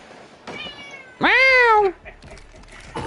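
A cat lets out one loud, drawn-out meow in the middle, close and clear, with quieter rustling and faint background sounds before and after.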